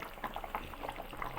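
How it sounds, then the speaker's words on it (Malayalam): Chicken curry boils in a pot, giving a faint, continuous bubbling and popping with no voices. "അപ്പോൾ നല്ല തിളച്ചുകൊണ്ടിരിക്കുന്നുണ്ട് നമ്മുടെ കറി."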